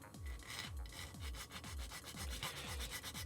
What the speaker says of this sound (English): So I filed that totally flat against there